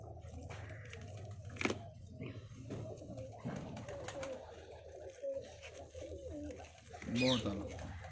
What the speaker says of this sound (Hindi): ये सब उड़े हुए कबूतर हैं